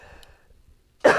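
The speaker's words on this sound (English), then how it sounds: "I wish to God this cough would go away." A single sharp cough bursts out near the end after a moment of near silence and a faint murmur.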